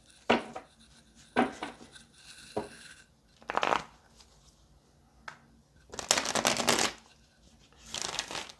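Tarot cards are shuffled by hand up close, a series of crisp riffling and slapping bursts separated by brief pauses, with the longest, loudest riffles near the end and no talking.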